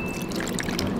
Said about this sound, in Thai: ใส่น้ำดองลงไปที่ปู